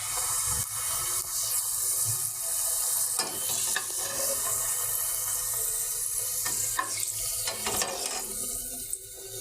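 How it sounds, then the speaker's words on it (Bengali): Deep-frying a puffed snack for belpuri in hot oil: a steady close sizzle and crackle with occasional stirring scrapes, continuous throughout and no talking. "আগে একটা ভেজে দেখি। মাশাআল্লাহ, ফুলে উঠছে।"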